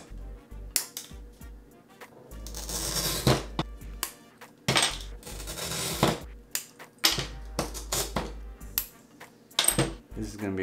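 Stained glass is scored and cut on a workbench, producing sharp taps, snaps and brief scratchy bursts in an irregular rhythm, close up, with a few clinks of glass pieces and no clear speech.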